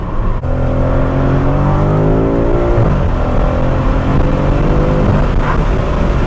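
A tuned BMW F90 M5 accelerating hard, a loud close engine roar with rising pitch that climbs steadily, dips briefly at a shift, then pulls strongly again, with no talking.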